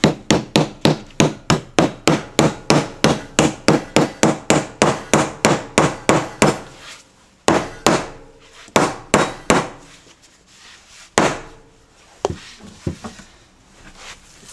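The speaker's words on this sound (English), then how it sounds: "let's get a hammer here and see if we can knock it in" Hammer knocking a wooden Dutchman inlay patch into a routed joint: a rapid run of about twenty sharp, evenly spaced knocks, then a pause and a few slower, scattered taps, close and loud.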